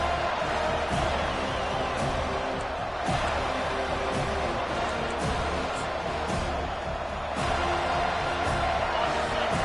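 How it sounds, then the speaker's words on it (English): A packed stadium crowd in a Madden 25 football game roars continuously, a dense loud wall of cheering with no gaps. "This crowd bringing an ear-splitting welcome to their visitors"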